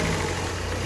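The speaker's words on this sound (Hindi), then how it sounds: "चल चल दे रेस, छड़ के दे रेस चल।" A Ford Figo engine with a misfire and knocking fault runs steadily and close, a low, even rumble holding one level throughout with no clear rise in revs.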